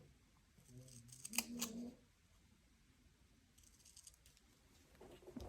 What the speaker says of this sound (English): I'm going to cut them through